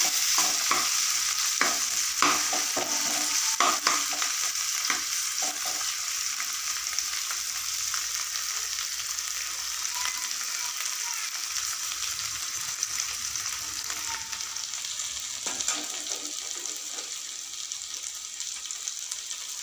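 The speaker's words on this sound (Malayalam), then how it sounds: "ഇനി നമുക്കൊന്ന് ഇളക്കി കൊടുക്കാം ഒന്ന് നൈസിനൊന്ന് വറുത്തെടുക്കാം നമുക്ക്" Ivy gourd stir-frying in a pan: a steady, close sizzle with frequent scraping and clacking strokes of a stirring spoon running throughout, no talking.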